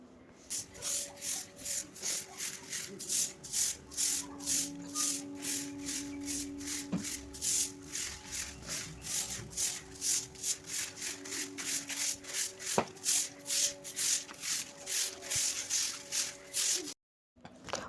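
A broom sweeps a home floor in regular, rhythmic strokes, each a brushing swish repeated steadily for nearly twenty seconds, close and moderately quiet.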